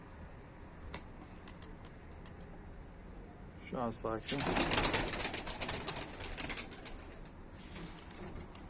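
Birds call close by during bird training, with pigeon-like coos and a burst of fluttering movement in the middle, while someone talks over them.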